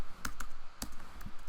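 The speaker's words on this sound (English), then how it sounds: "Press R on the keyboard" A handful of crisp computer keyboard keystrokes, close and isolated, a few quick clicks spaced unevenly against a quiet background.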